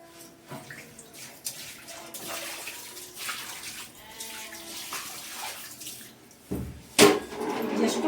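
Water splashes and pours steadily onto a hard floor in a home wash area being cleaned, with scattered clatters and a louder splash near the end.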